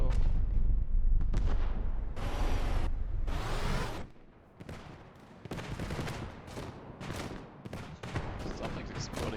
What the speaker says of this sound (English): Something's exploding over here.